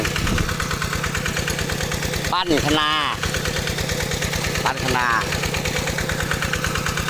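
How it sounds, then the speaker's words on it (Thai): A farm tractor engine idles steadily nearby in a loud, even chug that runs throughout, while a person speaks briefly over it twice. "เครื่องรถไถของเราไม่ต้องเร่งมาก"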